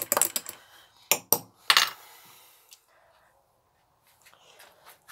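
A spoon stirs drinks in cups, giving a few quick clinking, scraping bursts close by, then a near-silent pause and faint light taps at the end.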